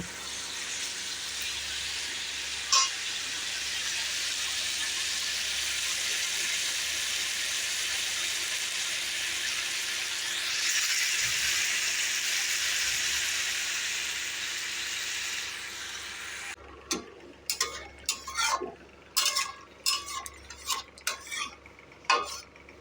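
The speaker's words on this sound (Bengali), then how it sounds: "ব্রোকলিটাকে প্রথমে ভালোভাবে ভেজে নেব" Broccoli fries in a pan, a steady close hiss of oil for about sixteen seconds, then a run of sharp clicks and scrapes from a utensil stirring against the pan.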